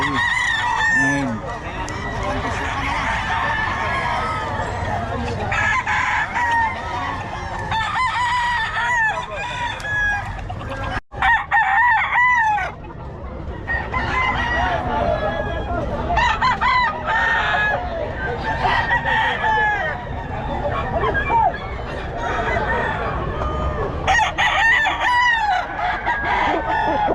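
A flock of chickens, including Golden Boy sweater gamefowl, at a gamefowl sale clucks continuously while roosters crow repeatedly, some close and loud, others farther off, with people talking in Tagalog throughout.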